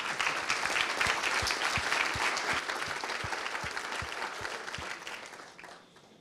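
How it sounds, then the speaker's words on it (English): Warm audience applause for the speakers at a conference before the lunch break, a full room clapping steadily that thins out and fades toward the end. "a warm applause to all the speakers so far before we go to lunch"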